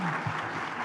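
A crowd at a political event breaks into brief, dense applause, with a steady wash of many hands clapping at close range and a voice faintly mixed in.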